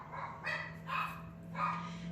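A household dog barks at the ringing of a doorbell, three separate bursts spaced about half a second apart, moderately near, over a steady low indoor hum.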